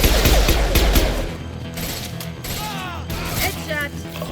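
Rapid bursts of gunfire in Mass Effect 2 crackle mixed with mechanical clatter and ratcheting clicks, loudest early and then trailing off into sporadic shots under faint voices.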